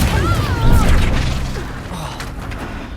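Confringo fire spell blasts from the video game Hogwarts Legacy, loud booming bursts near the start that fade into a rumbling tail, mixed with other spell effects and a whistling tone.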